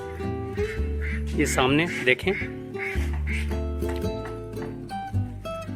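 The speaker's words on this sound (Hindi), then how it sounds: "बतख की आवाज़" A duck swimming on the lake at Neermahal palace, Tripura, quacks a few times nearby while someone talks over it, against a steady background drone.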